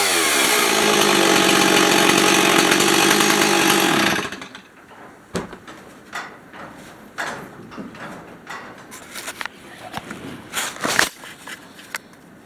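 Stihl 026 Farm Boss chainsaw from the 1990s, fitted with a 16- or 20-inch bar, runs loud and close for about four seconds, its engine note slowly dropping, then cuts off, leaving faint clicks and handling noises.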